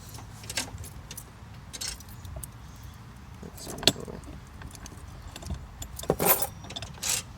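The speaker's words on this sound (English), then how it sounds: "Next up, we would need the keys to unlock." A ring of keys jangles in bursts while unlocking the hitch lock on a Coachmen Clipper 1265ST camper trailer, with metallic clinks growing louder near the end over faint background noise.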